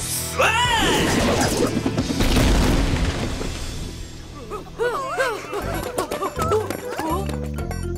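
Cartoon explosion in an animated series: a loud booming crash up front followed by crackling debris, then bouncy synthetic sound effects and squeaky tones.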